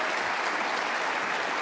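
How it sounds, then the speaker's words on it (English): A snooker final crowd bursts into applause, a dense, steady clapping that fills the short moment on its own without any voices over it. "And the crowd really getting behind Judd Trump."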